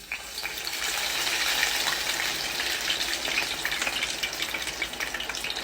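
Chicken pieces dipped in water fry in hot oil with a loud, continuous crackling sizzle, close and steady with fine popping bubbles throughout and no voices.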